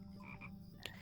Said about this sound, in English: Tiny frogs.